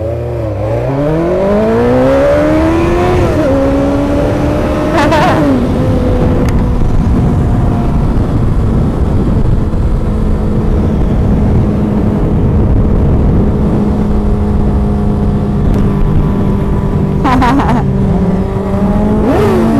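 Car engines rev and whine continuously, pitch sweeping up and down as they accelerate, loud and close with a constant roar underneath.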